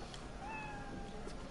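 A cat meows once in the Cyberpunk video game, a faint drawn-out call over a steady hiss of game ambience.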